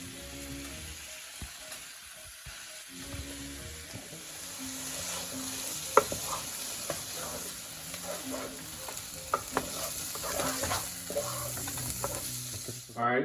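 Onions and poblano peppers frying in a pan for venison chili, a steady close sizzle with frequent scraping and stirring clatter throughout.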